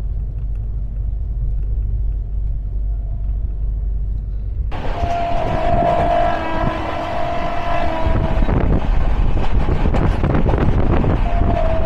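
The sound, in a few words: train running past Dankuni Junction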